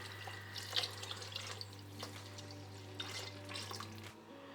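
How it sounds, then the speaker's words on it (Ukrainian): Chicken broth is poured over vegetables in a soup pot for a white bean vegetable soup, a quiet liquid splashing and trickling over a steady low electrical hum that cuts off near the end. "Далі виливаємо до овочів курячий бульон і доводимо його до кипіння."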